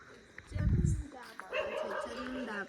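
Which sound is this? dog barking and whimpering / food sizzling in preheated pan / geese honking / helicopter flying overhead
dog barking and whimpering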